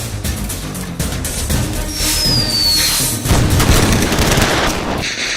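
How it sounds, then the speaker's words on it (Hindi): Loud, continuous gunfire from a film action scene crackles close by, with rapid overlapping shots and booms and a brief high whistle partway through. "अब वो हम पे गोली चला रहे।"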